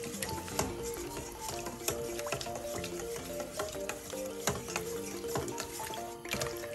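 A spoon stirs vinegar into milk in a bowl to make buttermilk, giving steady close-up scraping and light clinking with a quick, uneven rhythm throughout.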